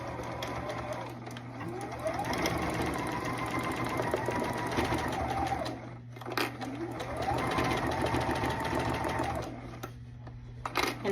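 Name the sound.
sewing machine stitching denim jacket seam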